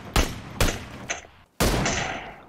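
Gunfire in PUBG: four sharp, loud shots spaced irregularly over a few seconds, each with a long ringing echo tail, the last one the heaviest and most sustained.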